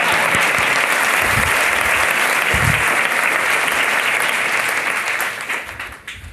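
Loud, dense applause from a large audience holds steady, then fades out toward the end.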